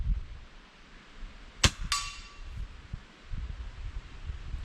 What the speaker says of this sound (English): I'm just shooting off the bipod here.